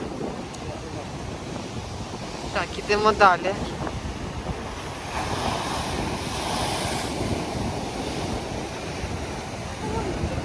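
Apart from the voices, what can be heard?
stormy sea waves surging at Odesa Langeron beach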